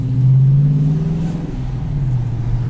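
A loud, deep exhaust drone from a 2018 Dodge Challenger T/A Plus automatic with its exhaust valve open rumbles steadily up close, throaty and sustained with a slight dip midway before resuming.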